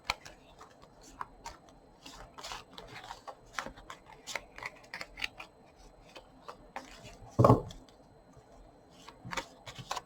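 Soft, quick clicks and snaps of tarot cards being shuffled, irregular and close, with one louder thump partway through.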